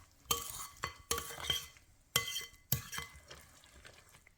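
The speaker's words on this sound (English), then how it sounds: "you're just gonna stir the ingredients together in the bowl until they're well mixed" Ingredients stirred together in a mixing bowl, with a handful of scraping, clinking strokes of a utensil against the bowl in irregular bursts, close and fairly quiet, no talking.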